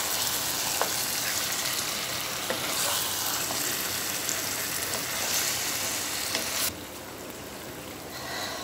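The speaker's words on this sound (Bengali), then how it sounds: "আর এখন মশলার সাথে ভালোভাবে মিক্সড করে নিচ্ছি।" Fried chicken pieces stirred with spices in a pan for a home-style chicken roast, giving a steady broadband sizzle with faint scraping clicks that drops to a softer hiss near the end.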